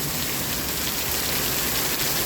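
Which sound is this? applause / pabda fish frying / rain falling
rain falling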